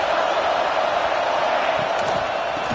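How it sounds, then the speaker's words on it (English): A stadium crowd at an LSU versus Florida college football game makes a dense, continuous roar of cheering, loud and unbroken, like a distant wall of noise. "And the crowd coming to life here, trying to help this defense down in the red zone."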